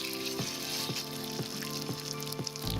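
Seasoned fish, salted and peppered with olive oil, frying in a pan, giving a steady close sizzle with a few soft periodic pops and no talk.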